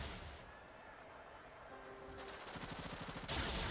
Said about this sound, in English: Blaziken going with another Bullet Seed.